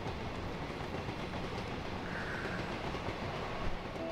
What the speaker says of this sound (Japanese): 電車に乗っておりました